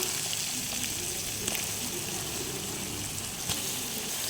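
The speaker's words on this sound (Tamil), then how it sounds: "இப்போ எல்லாம் நல்லா ஃப்ரை ஆச்சு ஃப்ரெண்ட்ஸ். இப்போ நம்ம வந்து சிக்கன் ஆட் பண்ணிக்கலாம்." Chicken pieces added to frying masala in a pan, producing a steady bright sizzle with wet crackling throughout, joined by a couple of soft clinks.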